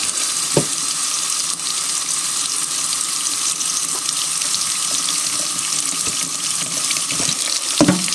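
Tap water runs steadily into a sink while daikon radish is rinsed, with occasional clinks and splashes; no talking.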